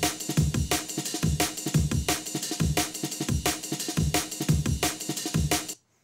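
A processed drum break runs through separate kick, snare and percussion buses, with punchy kicks and crisp snare hits in a tight repeating groove, loud and close, ending abruptly in silence.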